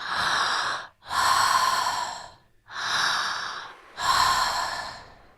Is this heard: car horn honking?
no